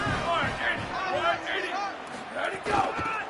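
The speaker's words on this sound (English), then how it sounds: "This Boise State crowd bringing the noise. It's deafening here on 3rd down." A Boise State football stadium crowd roars on third down, a dense, sustained wall of cheering that swells and dips, with a commentator's voice running over the top.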